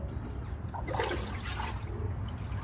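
Water sloshes and splashes inside a small boat's engine bay, a close, steady wash of trickling and spattering with no talking.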